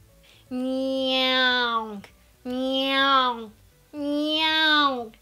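A singing teacher's voice imitates a cat's meow as a vocal exercise, three long, evenly spaced sung meows, each sustained for over a second, close and clear with brief silences between.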